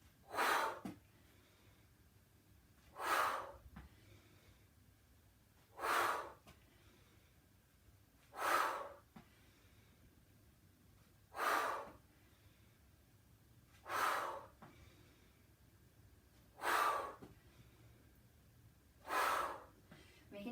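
Breathing during a parallel squat exercise comes as eight evenly spaced, sharp exhales or breaths about every two to three seconds, close and clear over quiet room background.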